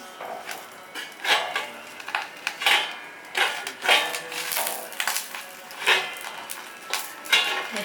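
A metal lid is set and turned on a cooking pot while a Bengali palm-fruit dish, pata pora, is being made. Close, repeated clinks, clatters and scrapes come in quick succession, with no talking.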